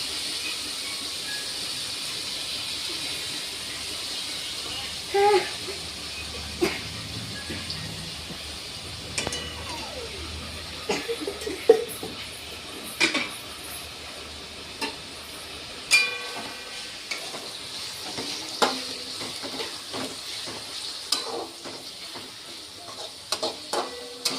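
Oil sizzles in a pan while mutton is cooked, a continuous steady hiss with scattered small pops and clicks over roughly twenty-four seconds, at moderate level with no talking.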